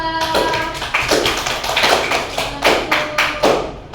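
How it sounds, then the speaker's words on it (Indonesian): A classroom group claps for fellow students in a short burst of applause, the irregular hand claps near and fairly loud, swelling in uneven waves with no talking over them. "Beri tepuk tangan untuk kelompok 2."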